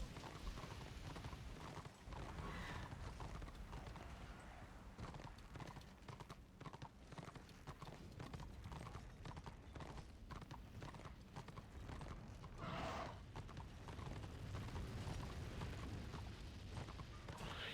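Horse hooves clip-clopping in a video game, a steady rapid patter of hoofbeats running throughout at moderate loudness, with occasional heavier thuds and little talk.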